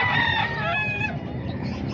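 A White Hatch gamefowl, an 11-month-old bird, gives a few quick clucks and rising squawks close by, followed by softer muffled rustling.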